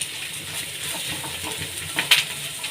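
Almond kernels roast in a pan with a continuous dry hiss and light scraping, rising to a brief sharper clatter near the end.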